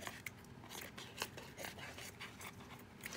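Scissors cutting through paper or fabric while making decorative craft tags, heard as a quick series of close, soft snips and crunches.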